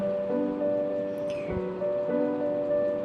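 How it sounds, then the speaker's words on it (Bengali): Chopped onion and two whole garlic cloves fry in hot oil with a soft, steady sizzle like light rain, a faint hum under it and one brief knock partway through. "কেটে রাখা পেঁয়াজটাও আমি এখানে তেলে দিয়ে দিচ্ছি আর দুটো গোটা রসুনও আমি এখানে দিয়ে দিয়েছি"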